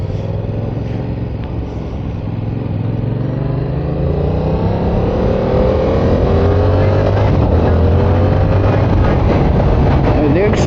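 A 2022 Yamaha R7 World GP 60th Anniversary motorcycle engine pulls hard under acceleration, its steady drone rising in pitch over rushing wind noise, loud and continuous from the rider's position.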